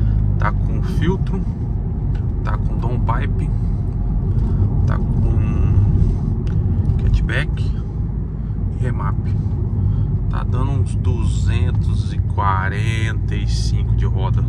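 A stage 2 Volkswagen Jetta fitted with a downpipe and an intake filter drives along, its steady, close engine rumble droning beneath continuous talking.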